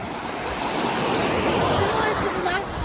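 Waves washing onto the beach at The Baths, a rocky shore with clear water, make a steady, full surf wash that fills the clip from start to end, with faint voices mixed in.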